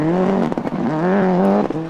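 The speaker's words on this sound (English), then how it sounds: "this costly spin coming up drops him" A rally car spins on a gravel stage during the Donegal International Rally, its engine note wavering and rising between sharp breaks, loud and close.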